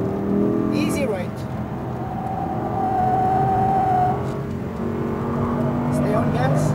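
An Audi R8 V10 RWD pulls on a race track, its engine droning loudly and steadily with a rising pitch as it gathers speed, while a person talks over the engine.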